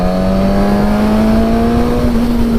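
A 2019 Suzuki Katana motorcycle engine snarls with heavy induction roar while riding on the road, a loud steady tone rising slightly in pitch, with no talking.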